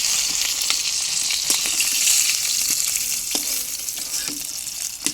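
Pieces of rohu fish fry in hot oil, giving a loud, continuous close-up sizzle and hiss with occasional soft pops and stirring knocks, and no talking.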